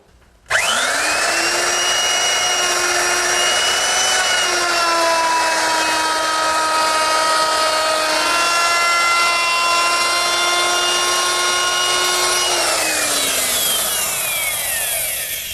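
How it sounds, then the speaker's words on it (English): A router fitted with a 3/8-inch radius rounding-over bit mills along a wooden edge, a loud sustained high whine with strong steady tones that spins up quickly, holds for about twelve seconds, then winds down. "I'll use my router, which is equipped with a 3/8" radius rounding over bit."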